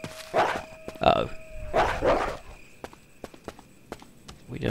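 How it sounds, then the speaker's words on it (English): Dogs in Resident Evil Remake, several sharp bark-like bursts close by, followed by a run of clicking, tapping footfalls over a quiet, hollow game ambience. "Bloody dogs."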